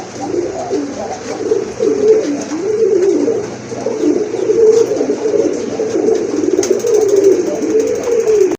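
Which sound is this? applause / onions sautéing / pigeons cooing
pigeons cooing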